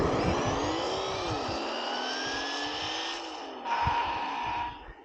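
A Team Associated SR7 RC car with a Castle motor brakes, giving a loud, continuous whining electric-motor whine with sweeping pitch that jumps briefly before cutting off, close and alone.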